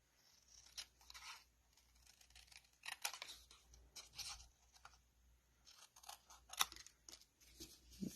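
Scissors snip through card while fussy cutting a papercraft card along fairly straight edges, a series of quiet, close crisp cuts with short pauses between them.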